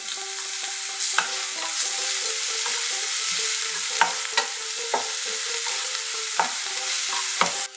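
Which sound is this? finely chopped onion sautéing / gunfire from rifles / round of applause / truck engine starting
finely chopped onion sautéing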